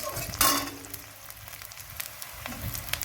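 Chopped onion and onion paste fry in a pan, a soft continuous sizzle with a sharp clink of a utensil near the start and light stirring scrapes, close and fairly quiet.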